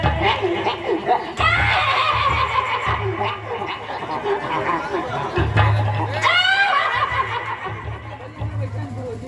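A man imitates a mule braying with his voice during a rural nautanki folk theatre performance. The rough, whinnying bray sounds loud amid crowd chatter and laughter.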